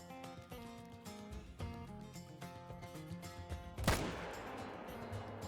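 A single rifle shot rings out sharply in the Call of the Wild hunting game, fired at a target 300 meters away, standing loud and alone against a steady background of game music and ambience.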